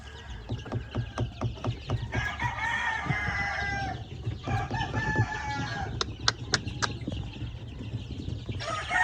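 Many young chicks and grown chickens on a farm, a dense flock of peeping and clucking with a rooster crowing, rhythmic pulses early and scattered sharp calls later, fairly near and moderately loud.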